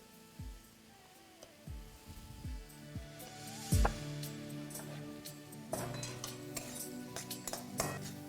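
A utensil stirs tomatoes and salt in a pan for lentil dal, giving scattered soft clinks and scrapes against the metal with faint sizzling, quiet and close.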